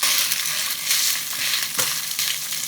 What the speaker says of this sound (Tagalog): Maggisa tayo ng bawang dito.